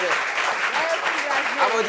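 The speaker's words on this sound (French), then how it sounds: "Applaudissements pour lui, viens." Audience applause for a volunteer at a French public meeting on youth unemployment, continuous dense clapping of a sizable crowd filling the whole short stretch, with a voice faintly audible beneath.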